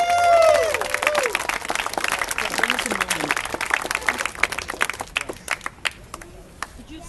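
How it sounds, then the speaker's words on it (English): Applause at an Occupy Worcester first general assembly, a burst of clapping from the gathered crowd that follows speech and gradually thins into scattered claps. "can I get some applause, please,"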